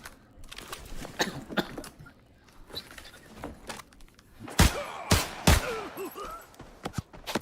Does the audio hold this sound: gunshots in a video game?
yes